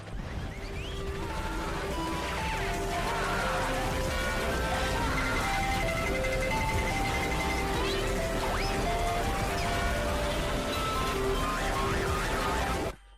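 Street ambience from a GTA video game: a dense, steady wash of city noise with passing cars and sirens, tones rising and falling throughout, and a continuous loud bed of background sound.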